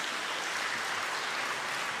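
A large audience applauds at an evening music and dance festival in Dehradun to welcome the Chief Minister of Uttarakhand, a steady wash of clapping throughout with no voices over it.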